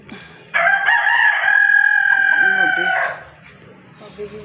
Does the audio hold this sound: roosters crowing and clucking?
yes